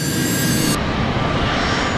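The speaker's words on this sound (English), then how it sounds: "Captain Morwood performs a brief engine run-up, heating the engines to rid them of any accumulated snow and ice." Fokker F-28 jet engines running up before takeoff in snowy, icy conditions, a loud steady roar with a high whine that cuts off early while the broadband rumble continues throughout.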